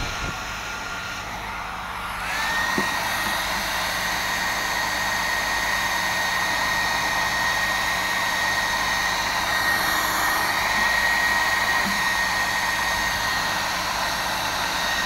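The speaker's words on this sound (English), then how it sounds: "so I'm having to use a hairdryer" A hair dryer blowing hot air onto the plastic trim of a Vauxhall VXR, giving a loud, steady whirring roar with a high whine that holds constant throughout, close to the microphone.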